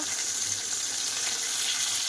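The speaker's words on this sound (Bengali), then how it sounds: "মাছগুলো কিন্তু ভাজা হয়ে গেছে বলতে, আবার এই ছোটোগুলো ভাজা হয়েছে" Fish frying in a pan of hot oil, a steady, even sizzle and crackle heard up close and alone for a couple of seconds.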